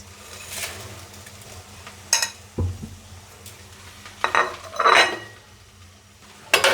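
Whole cumin, fennel, nigella, radhuni, fenugreek and dried red chilli toasted in a dry pan without oil for a dal with telakucha greens, giving scattered clinks and scrapes of a utensil stirring against the pan, with no talk.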